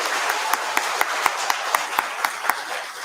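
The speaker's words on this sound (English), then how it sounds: "So round of applause." Audience applause at an eisteddfod prize-giving, a fairly distant, steady wash of clapping with a few sharper individual claps standing out at a regular pace.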